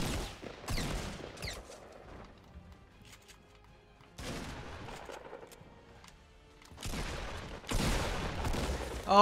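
Shotgun blasts in the video game Fortnite come in three dense bursts of rapid, loud gunfire with quieter gaps between them.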